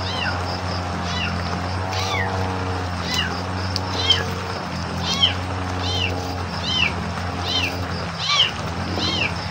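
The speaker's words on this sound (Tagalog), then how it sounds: "Ang ingay ng kuting na to." A kitten meows repeatedly in high, insistent cries over a steady low hum, several calls spaced a second or two apart.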